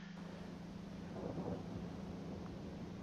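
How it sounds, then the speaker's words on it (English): Thunder rumbles low and faint in the distance within the Star Citizen video game, a soft continuous roll that swells slightly midway with a light rain-like hiss over a steady hum. "Do you hear that? The rumble of thunder."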